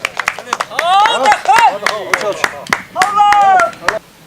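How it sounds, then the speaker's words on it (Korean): A loud bang at a traditional wedding celebration sets off a burst of excited cheering and shouting from a crowd, with sharp percussive claps and pops scattered among the voices close by. "펑 하는 소리와 함께 환호가 터집니다."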